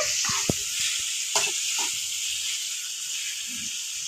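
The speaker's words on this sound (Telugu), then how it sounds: "ఒక చిన్న మూడు ఉల్లిగడ్డలు మూడు టమాటాలు ఇట్లా నూనెలో మగ్గించుకోవాలి" Three small onions and three tomatoes softening in hot oil for Telugu chicken curry, a soft continuous sizzle and hiss with a few light stirring knocks near the start.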